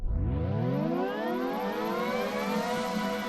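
A synthesizer pad swells in with a rising, gliding pitch, settling into a sustained, airy wash of layered tones with no voices.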